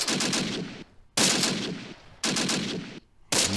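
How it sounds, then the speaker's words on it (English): Gunfire in the WWII tactical video game Close Combat: Panthers in the Fog, with three loud bursts of rapid shots separated by brief silences. "And there's also a gunfight going on up here."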